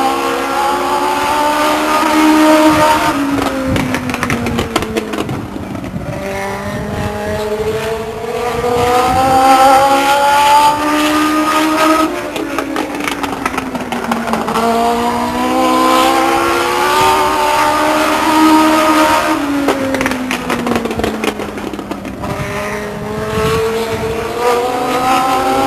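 Legends race cars lap Stockton 99 Speedway, engines rising and falling in repeated high revving sweeps as cars pass, loud and continuous with no talk.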